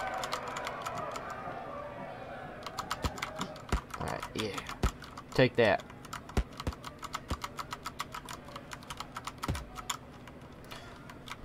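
Computer keyboard keys, WASD and arrow keys, tapped in rapid irregular bursts while playing Drunken Wrestlers 2, close and crisp, with a voice speaking briefly over the clicks.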